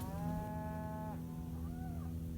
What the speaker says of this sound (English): Cattle are lowing, but...